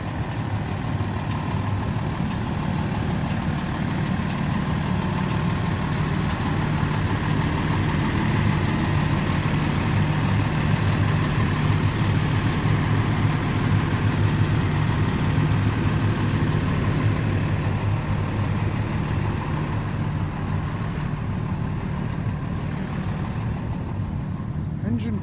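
A fire engine idles steadily with a deep, constant rumble and low hum, running without change throughout while voices occasionally speak over it.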